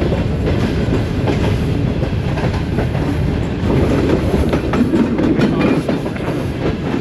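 The Shalimar Express passes Gojra station at slow speed under caution, with loud, steady rumbling and rhythmic clattering of wheels on rail joints close by.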